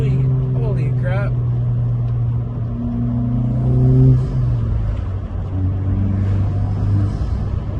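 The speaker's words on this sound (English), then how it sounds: "You hear the turbo?" Turbocharged sports car engine revving from inside the cabin, with steady droning tones that climb and drop as the throttle changes, loud and close, with voices talking over it.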